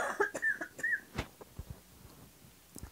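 A person coughs a few times in quick bursts, then clears the throat, fairly close and otherwise quiet.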